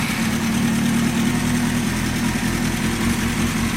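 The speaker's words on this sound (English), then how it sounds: "If I start the bike," A 2006 Kawasaki ZX6R motorcycle engine running at a steady idle, a loud, continuous, even drone with a low rumble and no talk.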